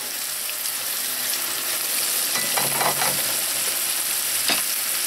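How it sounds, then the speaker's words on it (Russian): Onion frying in oil, a steady close sizzle with scattered crackles and a brief louder burst of popping and stirring partway through, no voices. "Так, обжариваем лук."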